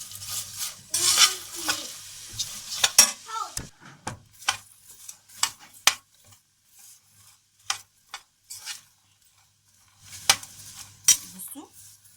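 Spoon scraping and stirring popcorn coated in black honey in a hot pan, with irregular clinks against the metal and a soft sizzle, close and moderately loud, with bursts of activity separated by short pauses.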